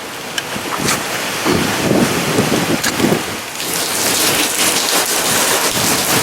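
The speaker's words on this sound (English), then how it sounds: "I'm getting too much rain." Heavy rain pours down with a dense, loud hiss, buffeted by gusts of wind against the microphone.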